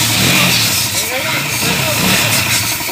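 A motorcycle engine runs steadily at close range just after a timing gear install, with a continuous rough idle and no revving, while indistinct voices sit faintly in the background.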